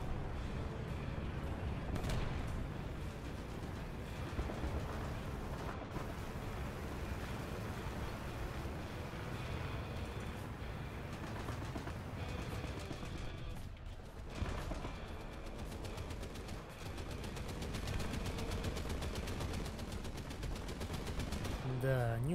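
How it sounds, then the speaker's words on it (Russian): Gunfire aimed at an aircraft in the War Thunder tank game, with a Jumbo M4A3E2 Sherman in play. Rapid bursts of shots ring out over a low, rumbling engine for about twenty seconds. "неудачная серия выстрелов по самолету"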